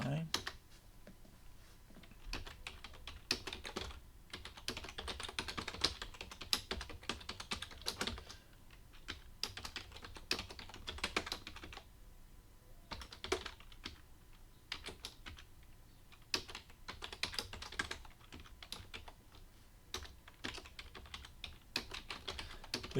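Steady typing on a computer keyboard while entering FreeCAD macro code, with fast bursts of key clicks separated by short pauses, close and moderately quiet, with a low background hum.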